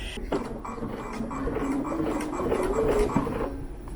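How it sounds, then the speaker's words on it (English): A sewing machine set to a small zigzag stitches down a decorative braid. It gives a soft, steady whirring hum with faint rhythmic ticking, quiet and unbroken, with no voices. "I am just stitching down my little decorative braid. I have my machine set for a small zigzag"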